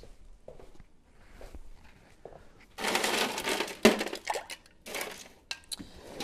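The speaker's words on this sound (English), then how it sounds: "And let's put some ice in there." Ice cubes tumble into a metal cocktail shaker with a burst of loud clattering rattles and clinks, preceded by quieter handling knocks and followed by a few scattered clinks.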